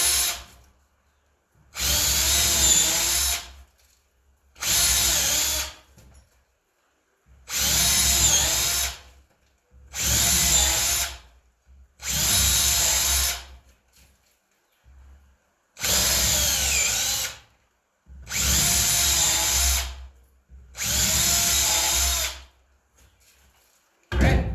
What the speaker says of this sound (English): by drilling in a little bit, pulling it out to remove some of the wood